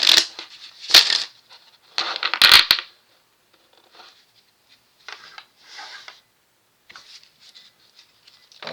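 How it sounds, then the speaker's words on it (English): Cards riffle and snap in a few quick bursts, followed by softer scattered shuffling and light taps, close and fairly quiet. "I'm just shuffling."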